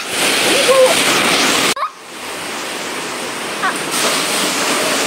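Heavy rain pours down steadily as a broad, loud wash of water, briefly interrupted near the middle before resuming just as strong.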